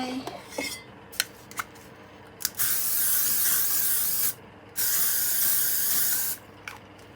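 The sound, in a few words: spraying hairspray on hair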